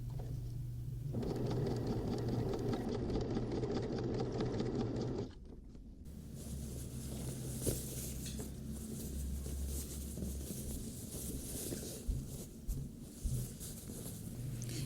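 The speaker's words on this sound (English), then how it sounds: "place it back under the sewing machine and top stitch all the way around" Sewing machine top-stitching around a fabric tote bag, a steady mechanical whirr running nearly the whole time with a shift in pitch partway through and a few small knocks near the end, close and alone.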